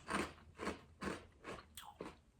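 Someone bites into and chews crunchy mini chocolate churro cereal pieces up close, giving about five distinct crisp crunches in a steady rhythm with no talking.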